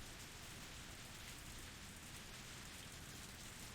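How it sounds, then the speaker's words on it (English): Pouring rain from the video game Higurashi hisses as a steady, even wash of dense drops, fairly quiet and constant, with no voices or other sounds. "we were attacked by pouring rain on our way"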